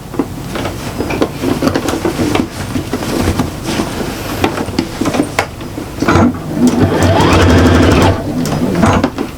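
A sewing machine stitches the side seam of a shopper bag, running in loud, uneven bursts of rapid needle clatter with short pauses, close up and alone.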